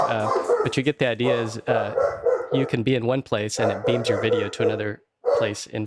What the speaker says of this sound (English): Oops, sorry about the dog there.